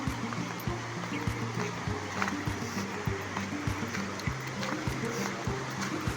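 River water flows steadily past a hanging bridge near a dam, a continuous broadband rush with small splashes, while a low rhythmic mechanical thumping runs beneath it.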